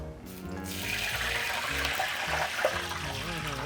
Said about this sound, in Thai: นี่เทน้ำมันเขานะครับ